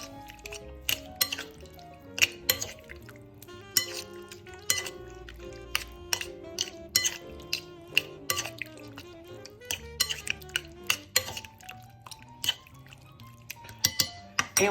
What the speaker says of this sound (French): On mélange bien la marinade.